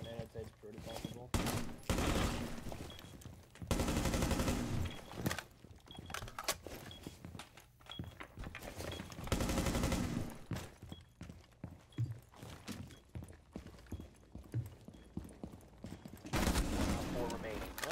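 Bursts of rapid gunfire in a first-person shooter video game, several loud volleys separated by quieter stretches of footsteps and small clicks, with a player talking between them.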